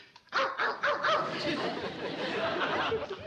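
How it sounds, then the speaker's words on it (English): A dog barks and yips in quick bursts, close and fairly loud, mixed with some voices and background commotion. "Yes, didn't you hear Uncle Joe barking?"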